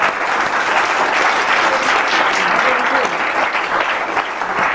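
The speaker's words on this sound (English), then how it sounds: "I think she deserves a round of applause." A room full of people applauds steadily at an interview event, dense continuous clapping holding at an even level for several seconds with some voices mixed in.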